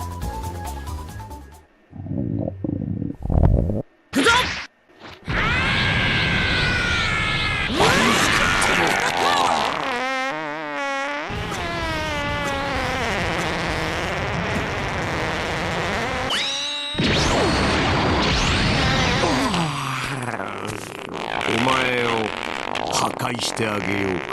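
Adult Gohan's level 1 super in Dragon Ball FighterZ, a loud, chaotic burst of warbling, screeching effects and yowling, cat-like cries after a few choppy stutters, running continuously and dense for over twenty seconds.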